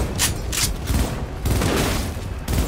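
Bursts of gunfire in a Cyberpunk 2077 corporate boss fight, several loud sharp volleys in quick succession with booming low end, over a busy background of combat noise.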